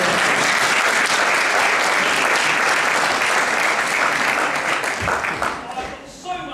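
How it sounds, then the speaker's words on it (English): An audience at an amateur pantomime production of Beauty and the Beast applauds loudly and steadily for a child's eleventh birthday, the clapping filling the hall before fading near the end. "11, ladies and gentlemen, round of applause"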